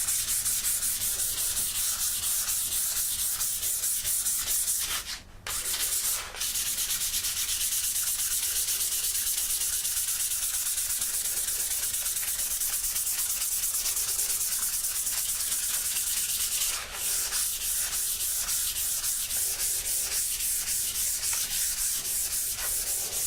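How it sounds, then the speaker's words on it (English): Steady, continuous rasping of 400-grit sandpaper worked across a flat brass surface, a close, even scrubbing that runs nearly without pause, with only a couple of brief breaks in the stroke. "You can sand in opposite direction, but if you do that, go back to going in one direction."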